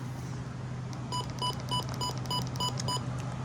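Midland WR120 DSP weather radio giving a rapid run of short, evenly spaced electronic button beeps, about nine in quick succession, over a steady low hum.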